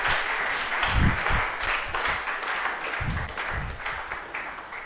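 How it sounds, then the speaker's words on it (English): An audience applauds steadily as a group of guests comes forward at a church gathering, broad continuous clapping with a few sharper claps standing out, no voices over it. "Please, let's clap for them as they come out today."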